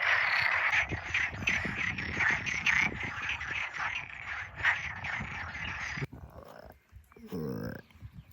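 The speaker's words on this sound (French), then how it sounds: "Oh, les crapauds, les grenouilles." Toads and frogs croak in a loud, dense, continuous chorus near Madeira, with voices talking over it before the chorus cuts off and quieter sounds follow.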